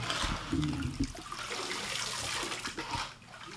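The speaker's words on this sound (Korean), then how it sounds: "계곡의 모래와 물을 이용해서 은의 색깔을 밝게 만들어가는 작업입니다." A silver fitting for a traditional Korean ornamental knife being polished by hand with valley sand and water: close, wet, gritty scrubbing and splashing that runs continuously for a few seconds.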